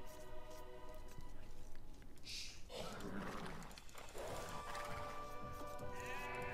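Sheep bleating in a ranked team multiplayer video game: several clear, wavering bleats over game ambience, with a voice faintly in the background.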